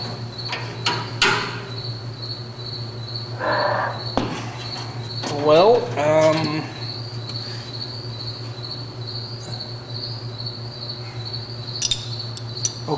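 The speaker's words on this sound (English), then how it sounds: "I hope the crickets aren't bothering you guys." A steady high cricket chirp carries on throughout a workshop restoring a 1948 Silver King Model 42 bicycle, with a few sharp metallic clanks from a ratchet and a brief spoken word partway through.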